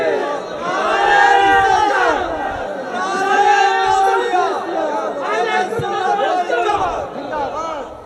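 A crowd of students chants a slogan together in loud, rhythmic unison, voices rising and falling in repeated phrases with shouted accents throughout.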